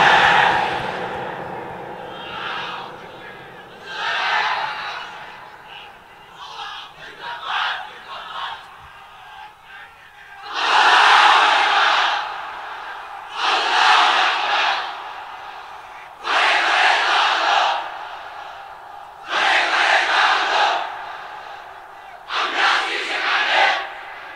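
A large crowd at a Bengali religious gathering chants Allahu Akbar in repeated loud, roaring bursts of massed voices, each lasting about two seconds with short gaps between them, rising in strength after a quieter, more scattered opening.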